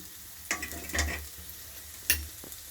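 Spiny gourd (boda kakarakaya) frying in a pan, a faint low sizzle with a few sharp spatula scrapes and taps, quiet and without speech.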